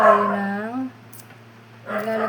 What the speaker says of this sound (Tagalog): Kasi may naririnig siyang kumakahol eh. Kaya nakikikahol na rin.